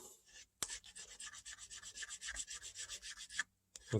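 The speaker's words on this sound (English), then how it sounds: "Scrape that area really good up here by the wrist on the stock" Steady rhythmic scraping on the wrist of a wooden Stevens 12 gauge single shotgun stock, lifting old friction tape residue; close, even back-and-forth strokes with brief pauses at start and end.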